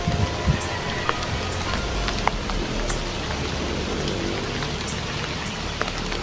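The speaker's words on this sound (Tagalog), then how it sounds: "malakas pa yung ulan doon banda" Heavy rain pours down outdoors in a steady, hissing wash of drops, with occasional louder spatters striking nearby surfaces.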